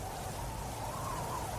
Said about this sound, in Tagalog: Lakas ng hangin. Grabe yung bagyo.